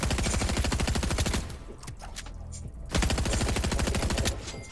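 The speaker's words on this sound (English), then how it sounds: "So you can shoot them all." Rapid automatic gunfire rattles in the Cash Tycoon video game, a dense, loud stream of shots that pauses briefly midway before the burst resumes just as fast.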